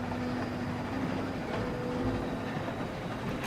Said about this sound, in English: Stop the train, man.